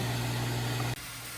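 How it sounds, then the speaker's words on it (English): Small electric transfer pump bought from Tractor Supply, primed and running on a farm spray rig setup, giving a steady loud motor hum with a strong low tone that cuts off abruptly near one second into a quieter drone. "So I think I'm going to prime a little pump."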